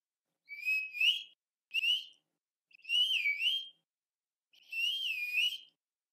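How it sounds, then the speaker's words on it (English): Four sharp, rising-and-falling herding-dog whistle commands sound alone in quiet, each a short shrill phrase with pauses between, the last one longer. "Each dog has a different sound for the whistle."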